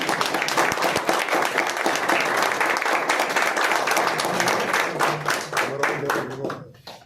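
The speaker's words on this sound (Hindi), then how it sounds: "जोरदार ताली हो जाए" Loud, dense applause from an audience at a carrom tournament prize distribution, sustained for several seconds before tapering off at the end.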